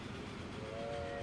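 A train in the Transport Fever 2 game gives a sustained steam-style whistle, a clear steady tone that rises in over a low rumbling of the moving train.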